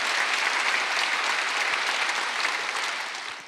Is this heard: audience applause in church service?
yes